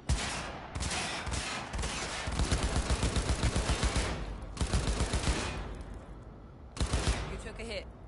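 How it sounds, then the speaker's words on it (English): Rapid automatic gunfire in Cyberpunk 2077, heard as dense bursts of shots with short pauses between volleys, loud and close, with heavy reverberant impacts running throughout. "The shooting feels weird in this game."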